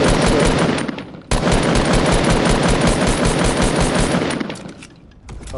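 Sustained rapid automatic gunfire from a video game, loud and dense for several seconds with a brief break early on, then tapering slightly toward the end with no talking over it.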